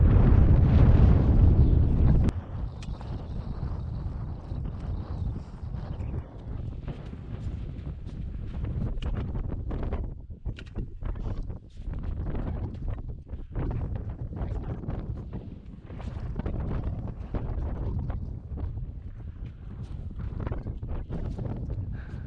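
Strong wind buffets the microphone on an exposed mountain hike near Ben Lawers and Beinn Ghlas in mid-October, a loud roaring gust at first, then a steadier, lower rumble of blustery wind with scattered thumps and crackles throughout.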